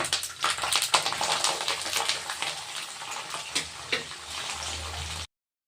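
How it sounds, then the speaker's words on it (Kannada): Sliced onions with curry leaves frying in hot oil in a pan for Andhra-style mutton fry, a loud continuous crackling sizzle with stirring scrapes, close up and without talk. "ನೋಡಿ ಈರುಳ್ಳಿ ಎಲ್ಲ ಈ ಥರ ಚೆನ್ನಾಗಿ ಫ್ರೈ ಆದಮೇಲೆ"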